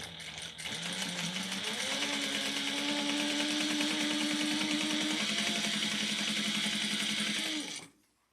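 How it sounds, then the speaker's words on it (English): Sewing machine topstitching a crossbody bag seam at one-eighth inch, a steady continuous motor whir with rapid needle chatter running for about seven seconds before stopping abruptly, close and alone. "We're going to top stitch it at 1/8 of an inch."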